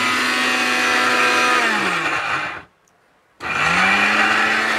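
A National electric blender grinds spices dry with no water, a loud steady whirring motor that runs, cuts out for about a second of silence, then starts again and spins back up to full speed.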